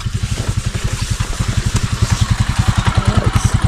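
A 175 motorcycle engine runs close by with a loud, rapid, even putt-putt pulse that stays steady throughout, with no talk over it.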